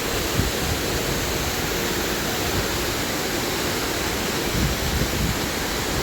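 Steady, dense rush of a waterfall in a natural outdoor setting, a constant broadband roar with no breaks, moderately loud and close, with no voices.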